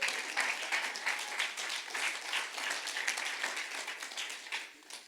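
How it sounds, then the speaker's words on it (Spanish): A church congregation applauds steadily with dense, overlapping clapping that holds for several seconds and then tapers off toward the end, with no other sounds standing out. "dale un aplauso al Señor"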